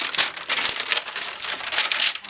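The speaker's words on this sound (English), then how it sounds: "I'm just going to fold my paper in half" A sheet of paper being folded in half for a DIY backless summer top pattern, heard as close, crisp crinkling and creasing rustles in short bursts, with no talk.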